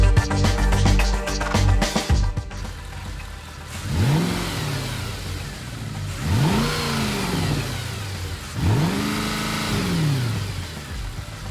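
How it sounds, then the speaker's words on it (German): Mercedes-AMG C63 S V8 engine revving three times after a brief initial roar, each blip climbing and falling back to idle, loud and close with no voices. "Der Klang des V8-Motors ist eine Sinfonie für sich."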